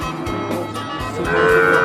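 Cattle moo loudly and close at a busy livestock market in Maha Sarakham, Thailand, with a long low call swelling toward the end and no talk over it.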